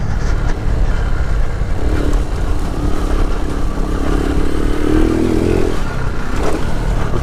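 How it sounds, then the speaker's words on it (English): Lifan KP motorcycle engine droning steadily up close while riding a lap on a dirt track, the note rising and falling with throttle and a brief rev swell near the end, continuous with wind rumble and no talk. "Let's do one more quick little lap. Whoa. Run me down. Bike's still warming up."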